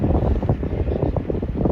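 Wind gusting across a burning farm field, a steady loud roar of buffeting and microphone rumble throughout with no voices.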